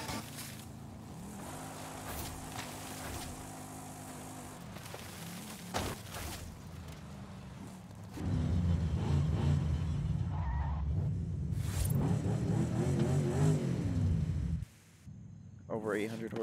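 Old-school Chevy Impala drift build tuned past 800 horsepower in Forza Horizon 5, its engine droning steadily on a drag run before rising into a louder, harsher roar with tire noise, while someone talks over it.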